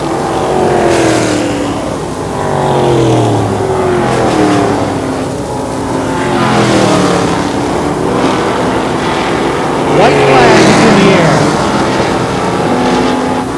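Short track race cars at an Oktoberfest super short track event roar continuously, engines rising and falling as a pack laps nearby, loud and sustained with overlapping revving, no talk audible.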